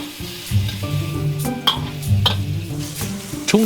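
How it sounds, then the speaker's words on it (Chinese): A fish head sizzles and fries in a wok with rapeseed oil, fresh chili and chili sauce as it is splashed with rice wine and liquor over a strong flame. The steady, close hiss comes with some clanks of stirring. "热货以菜籽油爆锅，调以鲜辣椒和千岛湖辣酱，下入鱼头后喷黄酒、白酒，点火稍旺"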